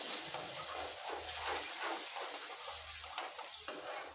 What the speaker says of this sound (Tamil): இப்போ இதை லேசாக வதக்கி விட்டுறலாம்.